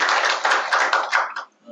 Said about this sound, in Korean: 두 분의 발제 우리 박수로 좀.